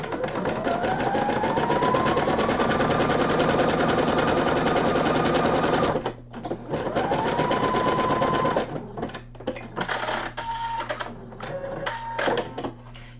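A sewing machine hums close by as it sews a narrow zigzag stitch along a nightgown's shoulder seam, with a long continuous run, a brief stop, then shorter stop-and-start bursts.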